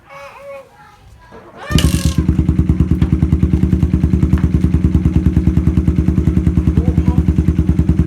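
A Suzuki GD110 motorcycle fitted with a new bullet exhaust pipe starts up and idles with a loud, close, steady rapid thumping. Children's voices are heard briefly before the engine fires.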